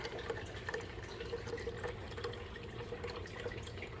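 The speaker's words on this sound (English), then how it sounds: "Here we are filling up the bottle right now with the brine shrimp." Water splashes and trickles steadily into a bottle as it is filled with brine shrimp water, a continuous close, moderately quiet pour with small drips and gurgles throughout.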